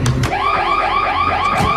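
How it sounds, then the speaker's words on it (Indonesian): An emergency alarm in a film scene, a loud looping electronic warble that sweeps up and down in rapid repeated cycles, opening with a couple of sharp hits before settling into a steady pulsing wail. "membuat alarm darurat supaya para kepolisian langsung berkumpul di suatu tempat"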